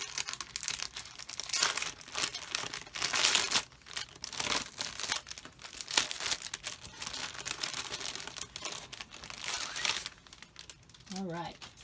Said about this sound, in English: We're going to have some crinkling, so just deal with it.